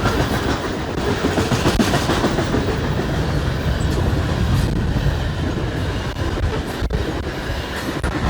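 A loaded coal train rolls past on the railroad, a loud, continuous close rumble of wagons with rhythmic clickety-clack of wheels over rail joints and occasional faint squeals, with no talking.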